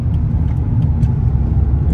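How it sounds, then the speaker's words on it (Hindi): Dubai road traffic heard from a moving car, a loud steady rumble of engine and tyres with a slight rev, continuous and close, no talking. "तो ये दुबई की सड़कें हैं, ट्रैफिक भी होती है"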